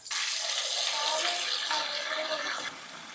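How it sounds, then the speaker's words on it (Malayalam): Tap water pours steadily and fairly loudly into a cooking pot in a home kitchen, filling it to boil cassava, with no talk over the flow. "ഇത് നല്ലോണം വാഷ് ചെയ്തിട്ട് ഇതിനകത്ത് വെള്ളം പിടിച്ച് ചൂടാക്കാൻ വയ്ക്കാം"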